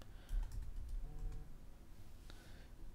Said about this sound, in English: So if we type in key here